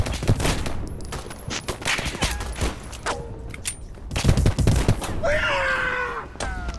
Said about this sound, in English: I'm just spamming MP40 guns, guys.